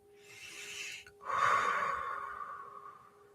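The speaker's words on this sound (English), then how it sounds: "Just give a big exhale through your mouth." A big, long exhale through the mouth, a breathy rush that swells after a brief pause and then fades slowly, heard close and alone during a guided meditation.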